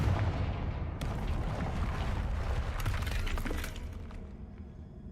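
A Confringo blasting spell in Hogwarts Legacy erupts in a loud, rumbling explosion with a sharp crack partway through, then debris clatter and rumble settle and fade.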